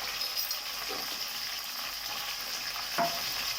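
Curry leaves, ginger and turmeric are stirred together in a hot pan for beetroot rice, a steady broadband sizzle with faint scraping strokes and one sharper scrape near the end, no voices.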